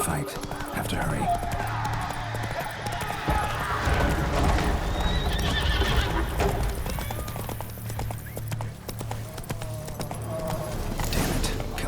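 Roach, a horse in The Witcher 3, gallops with continuous rhythmic hoofbeats and neighs, layered over game music and ambience at a steady, fairly loud level.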